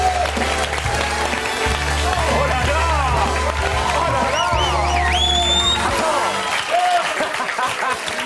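A studio audience applauds steadily to welcome a performer onto a comedy show stage, dense clapping throughout, with whoops and brief cheering over it and music briefly emerging near the end.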